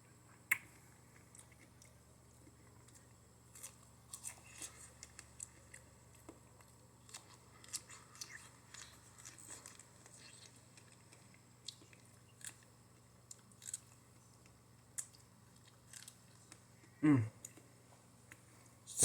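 Someone takes a single crisp, juicy bite of a fresh strawberry late in the stretch, close to the mic, after a long near-silent stretch with small tapping noises.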